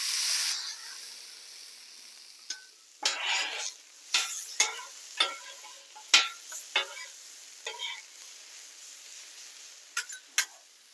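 Diced onion, red pepper and jalapeno for an omelette hit a hot Blackstone griddle: a brief hiss, then a string of sharp spatula scrapes and tosses with quiet gaps between them.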